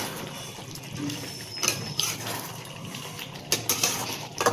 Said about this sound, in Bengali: এবার আলুটা দিয়ে দিচ্ছি